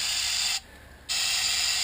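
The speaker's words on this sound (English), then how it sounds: "I'm going to spray a little carbon choke cleaner in here" Carbon choke cleaner sprays in a steady loud hiss into the carburetor of a 1966 Ford Falcon, with a brief pause of about half a second before the spray resumes.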